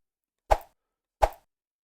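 Two identical short, snappy cartoon whippy-stick sound effects, built from layered samples, land about 0.7 seconds apart, each a quick plopping whoosh that cuts off abruptly, with no talking.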